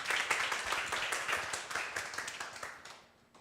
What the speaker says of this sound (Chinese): 我们拍手来欢迎静怡师母